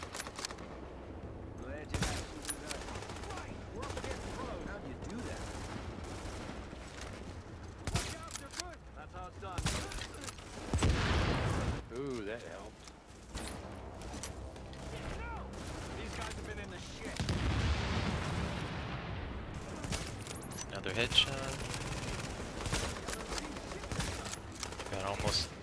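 Gunfire from a shooter video game set at Grand Central Station crackles in dense, repeated bursts and volleys throughout, with louder blasts near the middle and end, under near-constant speech from players.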